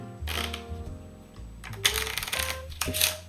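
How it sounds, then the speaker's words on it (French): Ordinary playing cards are cut and shuffled by hand during a card trick, giving close, crisp riffling and flicking bursts in quick succession, with no talking over them. "On va couper un petit peu, on va mélanger."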